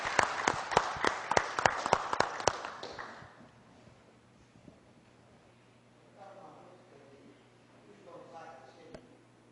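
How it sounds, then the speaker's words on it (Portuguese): Audience applause on a Brazilian television stage show as a performer is welcomed. Several seconds of loud, sharp claps fade out, followed by quiet background and some talking. "Vamos aplaudir Dário"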